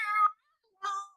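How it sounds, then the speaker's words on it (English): A cat meows twice in quick succession, two short nasal calls close by with a brief gap between them. "to my bottom left, we have our crazy cat, Janet."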